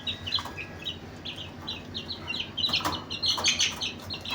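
Four-week-old chicks chirp and cluck steadily nearby, a busy cluster of short, high peeps that grows louder and denser toward the end, with no talking.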